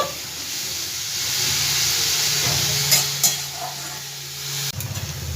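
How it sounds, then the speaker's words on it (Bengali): Bottle gourd peel frying in a pan with a little sweetener: a steady, close sizzle with a few soft stirring scrapes near the end, and no talking. "দু তিন মিনিট মতন একটু ভাজা ভাজা করব"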